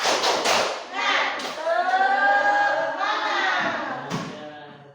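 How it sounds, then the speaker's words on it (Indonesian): A classroom of students chants the tepuk semangat routine in unison, several voices rising together with a few sharp claps and thumps near the start. "Tepuk semangat dulu coba."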